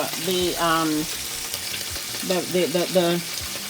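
Lane snapper and parrot fish sizzle in hot oil in a pan, with a continuous frying hiss and occasional stirring scrapes, while someone talks in brief bursts over the cooking.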